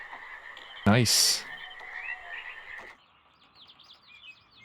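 Frogs croak steadily through a nighttime scene in the Myst video game, with a loud burst early on and a person briefly speaking, then softer chirping calls take over.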